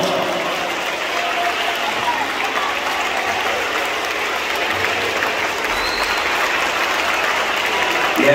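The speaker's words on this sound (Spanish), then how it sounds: "Fuerte el aplauso" An audience applauds at a farewell ceremony for a priest, with sustained, dense clapping filling the whole stretch at a fairly loud, even level.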